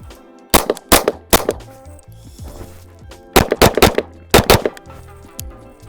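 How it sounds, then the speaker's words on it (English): Gunshots from a Flux Raider pistol chassis fitted with a Kraken, fired in two close bursts of sharp, loud reports with a pause between, then a second group of quick shots at a target. "So we'll shoot a little bit for you."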